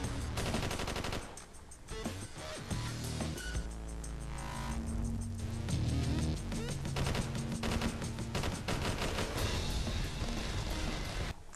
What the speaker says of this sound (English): I'm really anxious to see what this light machine gun is like in multiplayer